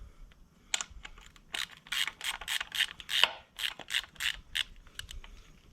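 A ratchet clicks in quick bursts of sharp, close ratcheting strokes while the belt tensioner on a high-compression Honda CRX motor is tightened, with short pauses between sets of clicks.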